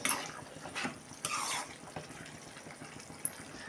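Amaranth greens boiling in a pot, bubbling in a soft watery churn with a few louder gurgling surges and small drips, close and fairly quiet, no voices.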